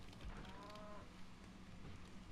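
A cartoon cow gives a low, drawn-out moo in the PS1 game Spyro 3, heard over busy game music and ambient sound, fairly quiet and fading after about a second.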